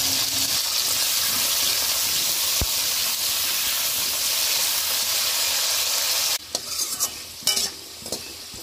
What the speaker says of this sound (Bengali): ওই তেলে আমি আলুগুলো ভেজে নেব।